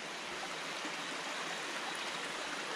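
Water pours steadily over a check dam spillway, a constant broad rushing hiss like a small stream, even and fairly close, with no voices.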